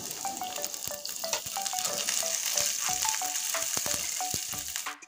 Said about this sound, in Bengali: এবার দেখুন ফোড়নটা সুন্দর করে ভেজে নিয়েছি, রসুনও লাল করে ভেজে নিয়েছি।